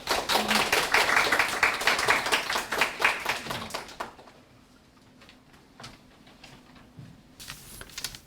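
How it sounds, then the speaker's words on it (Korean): Audience applause for a university job and startup support director walking onstage at a social hackathon awards ceremony, dense clapping for about four seconds, then thinning to a few scattered claps. "무대로 모실 때 큰 박수 부탁드립니다"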